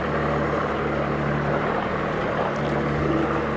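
A 2014 Evinrude Etec 65hp two-stroke remote outboard boat motor runs steadily nearby, a constant droning hum with a buzzing mechanical edge and no break.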